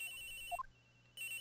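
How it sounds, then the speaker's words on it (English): Cell phone ringing in the Ace Attorney: Trials & Tribulations video game: a short electronic ring tone with a quick rising run of beeps, a brief pause, then the ring resumes, heard alone with no talk. "At around 10:30, I received a call on my cell phone."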